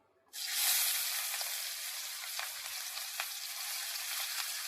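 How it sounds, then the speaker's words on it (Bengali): Long-sliced onions dropped into hot oil, bursting into a sudden loud sizzle that settles into a steady hiss with faint occasional crackles, close up and with no talking. "পেঁয়াজটা দিয়ে প্রায় দু থেকে তিন মিনিট ভালো করে ভেজে নিতে হবে"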